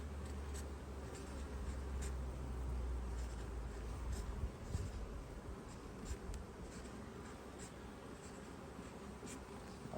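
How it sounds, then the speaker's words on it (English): Marker or pen scratching the year onto wooden beehive frames during a colony inspection, with short repeated strokes close by, faint bee buzzing in the background and no talk. "So now I'll write the year on my frames."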